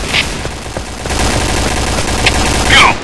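Weapon gunfire sound effects, a loud dense stretch of rattling shots and sharp cracks over a steady roar, with a brighter burst near the end.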